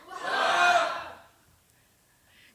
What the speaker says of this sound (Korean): 여러분 이겼다고 믿으시고 승리의 함성 우와!